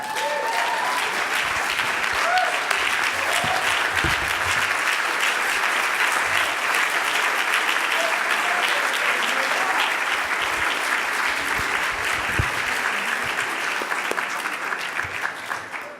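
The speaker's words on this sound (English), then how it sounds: "Ladies and gentlemen, how about one more round of applause for Senator Booker?" Sustained, full applause from a large audience of mayors at a winter meeting plenary session for Senator Booker, a dense, even roar of clapping that holds steady for a long stretch before tapering at the end.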